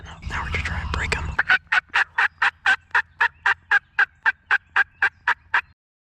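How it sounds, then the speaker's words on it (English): Wild turkey gobblers during a late-season hunt give a long, loud, evenly spaced series of about sixteen sharp calls, close by, after a brief muddled rustle at the start. "we have found ourselves some gobblers"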